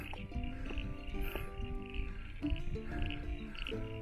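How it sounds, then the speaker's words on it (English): A chorus of frogs croaks continuously at a highland lake in the Walls of Jerusalem, ringed by pencil pines, with a light breeze; overlapping calls repeat in a steady pulsing rhythm at moderate distance. "One of the many lakes up here. Lots of frogs."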